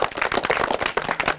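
Loud, dense clapping from a crowd at a TV show competition, continuous bursts of hand claps filling the whole stretch.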